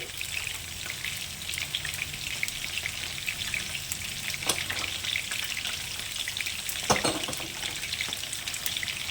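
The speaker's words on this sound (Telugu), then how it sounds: "ఆవాలు చిట్టుపడిలాడిన తర్వాత" Mustard seeds spluttering in hot oil for a stuffed ridge gourd curry, a steady dense crackle with scattered sharper pops, close and even throughout, with no voices.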